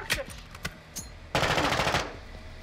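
Bursts of automatic gunfire from Call of Duty Modern Warfare 2: a few quick separate shots, then a dense rapid volley lasting about half a second, followed by a quieter tail.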